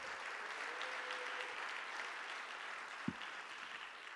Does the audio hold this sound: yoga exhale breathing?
no